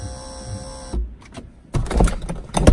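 A BMW Z4 convertible top latch motor runs with a steady electric whir for about a second, then cuts out and gives way to louder clicks and mechanical knocking.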